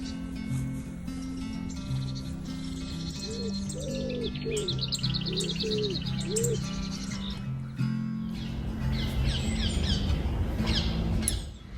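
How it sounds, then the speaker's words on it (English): Birds chirp and warble in a garden, a few short repeated calls standing out over a steady background hum, with brighter twittering later on. "sometimes just to sit and listen to the birds"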